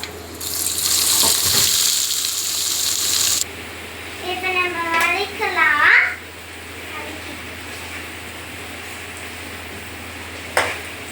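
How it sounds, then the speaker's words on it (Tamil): Onions, green chillies, curry leaves and crushed garlic drop into oil with popped mustard seeds, a loud sizzle that settles into a quieter frying hiss, with a voice talking midway. "வெங்காயம் நல்லா வதங்கணுங்க வெங்காயம் நல்லா வதங்கினா தான் நம்மளுக்கு வந்து முட்டை குழம்பு நல்லாயிருக்கும்"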